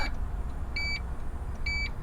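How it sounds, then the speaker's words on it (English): Two short electronic beeps from a power driver's seat moving forward or back in a 2023 Toyota Crown Limited AWD, spaced about a second apart, over a low steady hum inside the car. "The driver's seat beeps when you move it forward and backwards."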